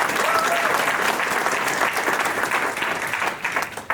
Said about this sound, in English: Applause to Stanley that made this day happen and pull all of this together and all the different parties